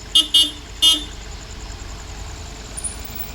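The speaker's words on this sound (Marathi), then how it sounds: "हो टेम्पो ट्रॅव्हल जो आसा हेची हायट सुबेस आसल्या कारणान तो आतां सुटना, तो रिटर्न वयता" A tempo traveller turns back at a road height barrier: three quick, loud horn toots ring out close by, then a low engine rumble continues underneath.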